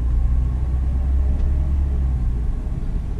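Honda Civic driving along, a steady low engine and road rumble filling the cabin at close range with no distinct gear-change breaks standing out.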